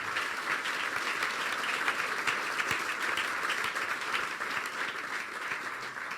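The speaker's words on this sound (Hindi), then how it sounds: "यीशु के लिए जोरदार तालियां बजा दें" Loud, dense applause fills a church congregation gathered for a sermon, steady and sustained throughout with no talk over it.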